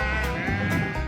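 A sheep bleats loudly and close on a rural B road in Northumbria, one wavering, drawn-out call lasting about a second with no talk over it.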